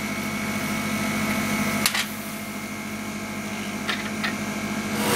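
A laser cutter runs a 10 mm per second cut test, giving a steady mechanical hum and whine with a few brief clicks, close by and with no talking.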